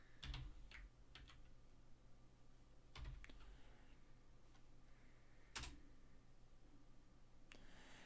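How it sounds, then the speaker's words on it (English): Quiet keystrokes tap on a computer keyboard in a few scattered bursts, close and sparse against a soft background hum, with no talking. "You can now hear me hitting the keyboard."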